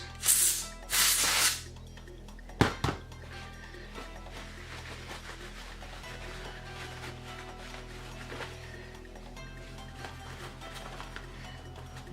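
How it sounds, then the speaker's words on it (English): Two short, sharp hissing bursts of compressed air blasted into the small cracks of a game cartridge during cleaning, followed by quiet handling clicks and low background hum. "I'm going to use compressed air to get it out of these little cracks"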